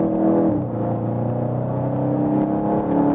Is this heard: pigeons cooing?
no